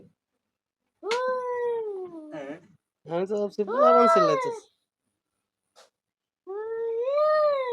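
A cat lets out strange, drawn-out, human-like yowls and wails in several long bursts separated by pauses, close and loud, with a person talking in between.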